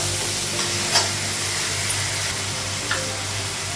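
Turmeric, ground cumin and salt frying in a pan in a home Bengali kitchen, a steady close sizzle with a few faint stirring scrapes, no voices.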